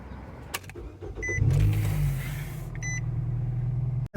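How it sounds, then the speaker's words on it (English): A car heard close up: a door click and short beeps, then the engine starting and settling into a low steady idle hum, with another pair of beeps partway through. "And then you got to go to the car."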